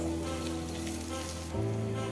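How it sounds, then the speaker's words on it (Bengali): Chickpeas with turmeric powder sizzling in a pan for Bengali ghugni, a steady close crackle of frying under a low hum, with no talking. "সামান্য পরিমাণে হলুদ গুঁড়োটা দিয়ে আমি আর একটু ভালো করে ভেজে নিব"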